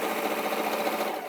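A domestic sewing machine runs steadily at an even pace, stitching long gathering stitches down a length of dressmaking fabric, a close, continuous whirring hum with no talking.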